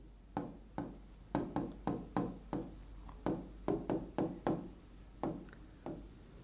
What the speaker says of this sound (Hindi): तो यहां पर मैंने लिख दिया कार्बन